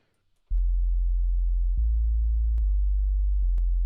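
A simple sub bass patch made in the Massive synth, a deep pure sine-like tone holding steady low notes that shift pitch at intervals, with faint clicks at note changes, loud and alone.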